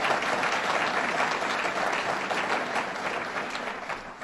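Audience applause at Governor Cuomo's budget presentation in Amherst, a steady crowd of many hands clapping evenly throughout, moderately distant and fading slightly at the end.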